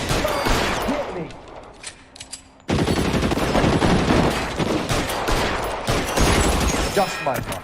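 Sustained gunfire in the crime game LA Noire, a few scattered shots, then dense, loud automatic bursts rattling close by, with voices heard at points through the firing.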